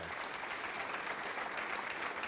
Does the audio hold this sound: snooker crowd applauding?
yes